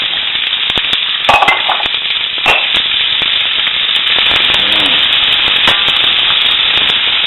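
Onions sizzle and crackle steadily in hot bacon grease, a loud, continuous frying hiss with scattered pops, close up and without any talking.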